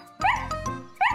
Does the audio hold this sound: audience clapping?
no